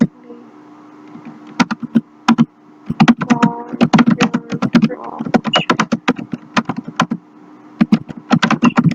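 Typing on a computer keyboard, close sharp clicking keystrokes in uneven bursts and runs with short pauses, with a faint low hum underneath.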